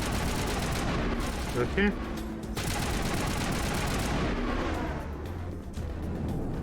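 Shotgun firing amid combat in Mass Effect, a dense, loud stretch of overlapping gunfire and blasts that fades slightly toward the end, with a voice speaking briefly over it.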